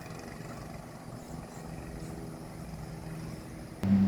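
A Coleman CT200 minibike engine runs at a steady, low idling rumble, fairly quiet and distant, with a brief louder knock near the end.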